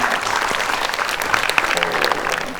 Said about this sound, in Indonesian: Tepuk tangan dong untuk sahabatnya Nikita Mirzani